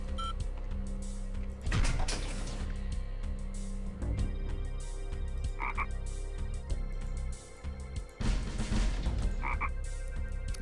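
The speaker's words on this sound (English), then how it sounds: "So why do we get the sound of a frog when you click the basic lab?" Frog croaking plays as the basic lab, a hydroponics building, is selected in the 1997 strategy game Outpost 2: loud, repeated throaty croaks over a continuous hum of game background sounds.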